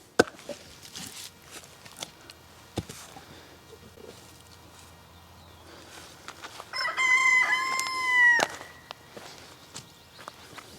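A rooster crows once, clear and moderately near, partway through an outdoor garden scene among chickens, with footsteps and scattered rustling around it.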